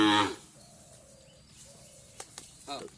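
A 70 percent Sahiwal young cow gives faint, drawn-out low moans in two short stretches, following a brief loud burst at the start and a few sharp knocks near the end.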